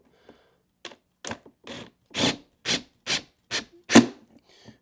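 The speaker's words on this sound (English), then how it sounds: "I'm just going to pop in the center screw real quick just to get this to tighten down" A screw is tightened into a motorcycle saddlebag latch cover, giving a series of short, close rubbing and grinding bursts in a rough, uneven rhythm, with quiet gaps between them.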